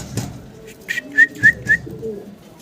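Pigeons at a pigeon farm give three short, clear cooing whistles in quick succession, near and moderately loud, amid soft rustling and faint background noise.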